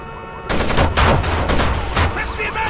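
Machine gun fire in the video game Rainbow Six Vegas, a loud, dense burst of rapid gunshots starting abruptly and continuing in rolling volleys, close and aggressive, with faint game voices in the background.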